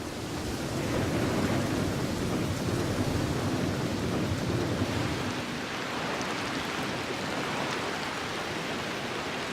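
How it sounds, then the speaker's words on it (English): Heavy rain driven by strong thunderstorm winds in the rainy season over the Kazinga Channel: a dense, steady, loud wash of noise that roars without break for the whole stretch, with no voices. "And with the rain comes strong winds."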